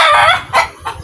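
A farm rooster crows loud and close, a short burst of harsh, raspy calling broken into a few quick pulses.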